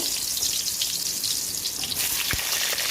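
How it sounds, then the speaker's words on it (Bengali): Pointed gourd frying in hot mustard oil in a wok, a steady dense sizzle with crackling pops that brightens and intensifies partway through. "এখন এই পটলগুলো দিয়ে আমি ভেজে নেব"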